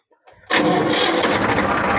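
Faint clicks, then a tractor engine suddenly cranks and catches, settling into a loud, rough, chugging idle that continues steadily.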